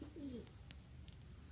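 A pigeon gives a soft, low coo near the start, then only faint background noise.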